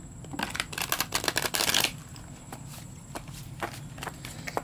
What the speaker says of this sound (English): So let's see what this deck has to tell us today. Again, we're going to try and get these guys shuffled.